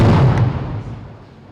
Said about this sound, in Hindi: और देखिए अभी यहाँ पर एक ब्लास्ट हुआ है।